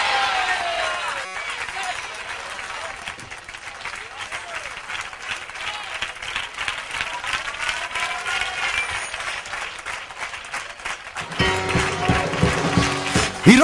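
A church congregation claps along during worship, a steady dense patter of many hands under a voice speaking throughout, with music and louder clapping swelling near the end.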